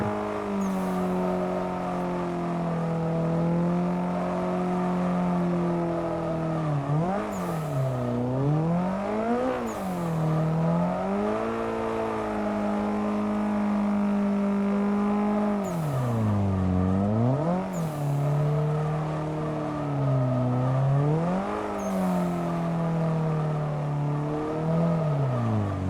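Simulated car drifting donuts around a cone in Assetto Corsa, a steady loud engine drone with repeated rev swoops as the throttle rises and falls, continuous throughout with no talk.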